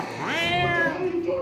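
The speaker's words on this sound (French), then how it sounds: "Un chat." A single loud cat meow sound effect from an Alien pinball machine, rising then holding in a drawn-out nasal tone for over a second, close and clear.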